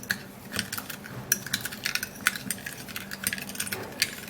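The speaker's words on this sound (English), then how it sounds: "then I'm gonna be giving it a good stir" Cucumber juice being stirred into a sugar and honey mix, light rhythmic clinking and scraping of a spoon against a bowl, close and repeated throughout.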